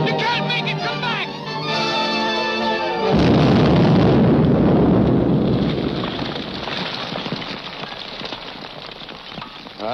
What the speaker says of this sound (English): That explosion got Grogan, too.